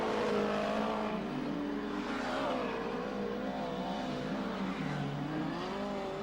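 Speedway race cars roar around a showground track in the late laps, their engines droning and rising and falling in pitch as they sweep through the pit corner and down the straightaway, steady and moderately distant.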